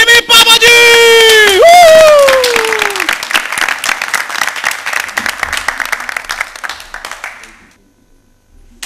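A stage audience breaks into loud sustained applause to welcome a singer, dense clapping that swells over a sung voice at the start and then gradually thins and fades out.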